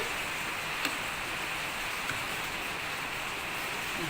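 Steady rain falls as a continuous, even hiss with a couple of faint ticks of drops, and no voices are heard.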